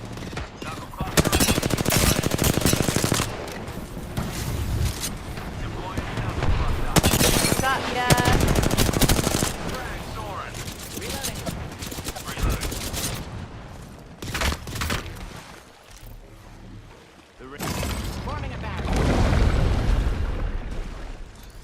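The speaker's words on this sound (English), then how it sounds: "Shooting at me. I'm taking fire." Dense video game gunfire: sustained rapid bursts of automatic shots and booms, loud and nearly continuous, with brief lulls and a person talking over it.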